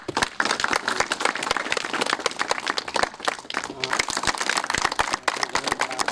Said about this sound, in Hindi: दोनों पास्टर सबको ताली मार के स्वागत करेंगे।